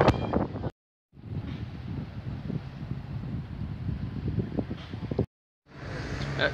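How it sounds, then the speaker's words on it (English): Strong wind buffets the microphone outdoors at a Welsh seaside holiday park, a continuous rough rumble with gusty flutter, cut by two brief silent gaps. "It's so windy."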